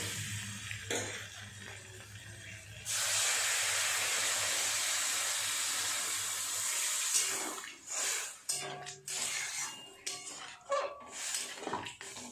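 Water is poured into a pan of well-browned, spiced egg curry base, producing a loud hissing rush for several seconds, followed by intermittent clatter and scraping of utensils against the pan.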